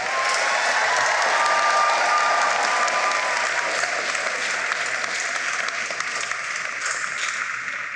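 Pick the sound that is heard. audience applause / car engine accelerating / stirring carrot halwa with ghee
audience applause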